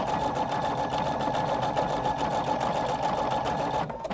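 A Husqvarna Viking Designer Brilliance 80 sewing machine runs a back-and-forth triple decorative stitch, a steady close hum with rapid rhythmic needle ticking throughout, easing off at the very end.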